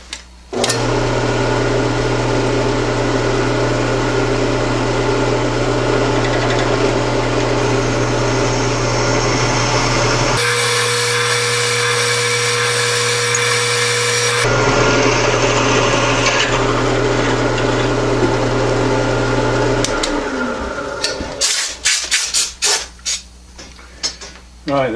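A lathe machines a hole for M8 x 1.25 hex cap screws on a lathe brake project, giving a steady loud mechanical hum with tonal whine and a harsher noisier burst midway, then stopping into a few clicks near the end.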